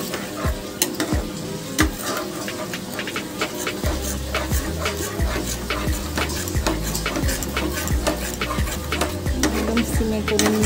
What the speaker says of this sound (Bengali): দইটাকে ভালো করে মিশিয়ে দেবো মশলার সাথে।